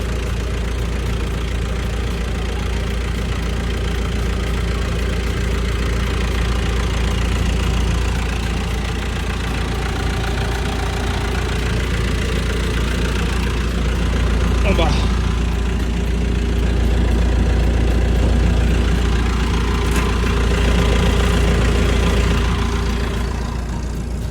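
A Perkins diesel engine in a Sampo combine harvester idles steadily with a deep, constant rumble and faint knocking texture throughout, loud and close, with someone talking over it.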